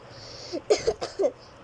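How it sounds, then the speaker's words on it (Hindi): A quick cluster of four short, muffled coughs, fairly close, with quiet background between them and no talking. "मुझे अभी यहाँ खांसी आ रही होती है"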